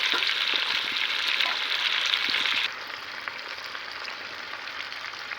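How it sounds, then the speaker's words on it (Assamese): Potatoes hit hot oil in a pan with a loud, steady sizzle that holds for several seconds and then drops to a softer, even frying hiss, all through. Nobody speaks. "এতিয়া মই আলুখিনি এড কৰি দিছোঁ।"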